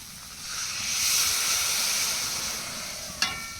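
Water poured into a hot pan of fried taro (kochu) hits the oil with a loud, steady sizzling hiss that swells and lingers, ending with a brief sharp clink.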